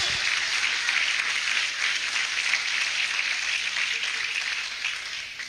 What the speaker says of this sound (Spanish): Le da un aplauso grande a él que él vive